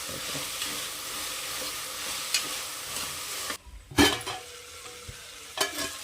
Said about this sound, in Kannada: ಇದೆಲ್ಲವನ್ನು ಚೆನ್ನಾಗಿ ಫ್ರೈ ಮಾಡ್ಕೊಳ್ಳೋಣ